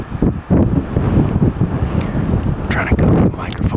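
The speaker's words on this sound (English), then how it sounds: "The wind switched and started blowing right at them." Wind gusts across the microphone during an archery elk hunt, making a loud, uneven low rumble that surges and buffets throughout.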